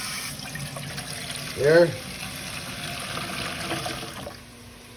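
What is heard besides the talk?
water poured into a seasoning pot for pressure cooking oxtails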